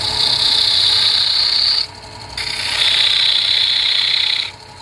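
A detail spindle gouge cuts wood spinning on a lathe while a footed wooden vessel is shaped. The scraping hiss runs steadily, breaks off for a moment, then resumes close up with no talking.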